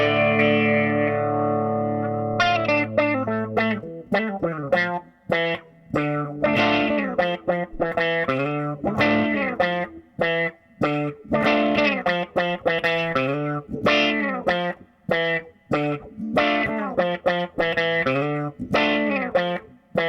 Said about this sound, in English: this guitar sounds really great with all these pedals